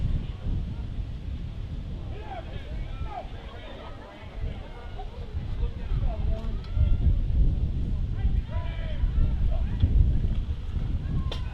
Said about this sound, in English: It's windy here. I'm not sure how I can get much wind here, Mike. Gale force winds right now.